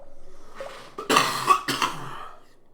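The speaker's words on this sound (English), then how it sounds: "We gotta edit that cough out, too." A single person coughs sharply twice in a row at close range, the bursts following a quieter stretch of low throat noise.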